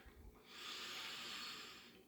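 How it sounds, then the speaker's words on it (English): A person takes one long, airy sniff close up from a glass of Branca Menta, the breathy inhale swelling and then tapering off over about two seconds. "Let's go ahead and give this a good sniff."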